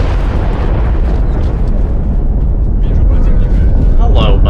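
A rocket fired in the turn-based strategy game XCOM: Enemy Within bursts into a heavy, rumbling explosion that roars loudly and continuously, with debris crackle and a sharper burst near the end.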